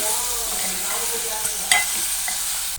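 Vegetables frying in oil with salt are stirred in the pan, a constant sizzle broken by a few scraping strokes and one sharper clack midway.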